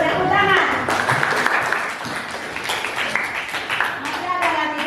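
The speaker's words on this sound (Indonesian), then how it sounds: "Ya, bagus, tepuk tangan." Classroom applause in an Indonesian ninth-grade civics lesson, a busy burst of clapping from students that fades somewhat midway, with children's voices and chatter mixed throughout.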